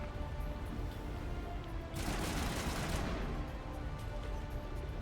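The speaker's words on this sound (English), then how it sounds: "What are you firing at?" A dense burst of gunfire in Mass Effect Legendary Edition on Virmire rattles out for about a second over a constant background hum, then fades back into the ambient drone.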